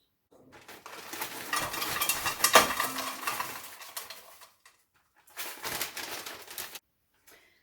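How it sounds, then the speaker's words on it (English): Half a packet of vegetarian mince tipped from its packet straight into a rice cooker bowl, giving close rustling and soft clattering thuds in two bursts, the second shorter, with no talking. "I'm going to use about half a packet and just put it straight into the rice cooker bowl"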